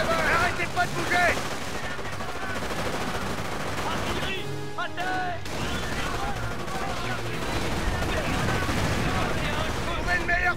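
Dense wartime battle in Company of Heroes, with continuous rattling gunfire, heavy thuds and mortar impacts in a World War II setting, while soldiers' voices shout commands over the din.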